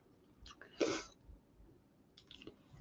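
A single sharp, mid-volume human sneeze bursts out once, followed by faint breathy sounds and a small mouth noise near the end, with no talking.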